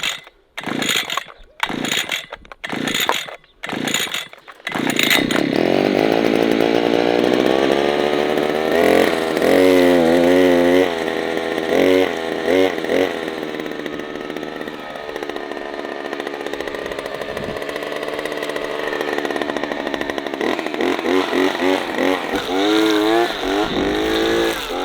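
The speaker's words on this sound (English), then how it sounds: "with the trimmer I'm gonna cut the grass down so we can plant it off." A string trimmer cuts grass on a newly acquired property, starting with a few sputtering bursts before settling into a loud, continuous engine whine that rises and falls as it works through the growth.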